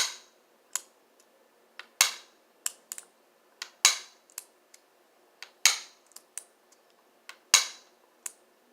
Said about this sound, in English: while I'm applying tension, I'm going to strike the key